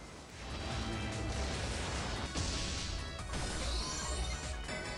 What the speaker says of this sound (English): Oh, Daemon attacks all, and it is a fire attack, too.